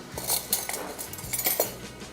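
A tablespoon scoops empanada filling mix from a bowl, giving several light metallic clinks and scrapes at close range over a quiet background.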